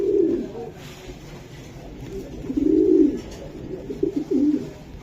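Racing pigeons, including light-coloured and white birds kept as breeding pairs, give low throaty coos in several close bursts, with a faint background hum and no talk.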